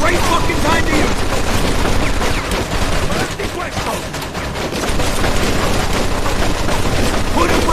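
Machine gun fire in the Mafia 2 video game, loud and continuous rapid bursts filling the whole stretch, with shouting voices mixed underneath.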